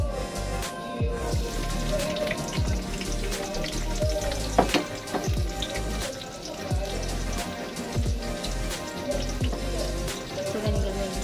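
Onion and garlic sizzle and crackle in hot oil in a pan, a dense continuous spitting hiss with frequent pops, steady and close throughout.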